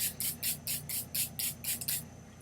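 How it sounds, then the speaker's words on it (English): Hydrating mineral water facial mist from a No7 spray bottle, eight quick, soft, hissing pumps in a steady rhythm, close and quiet. "I am going to spray some of my hydrating mineral water from number 7."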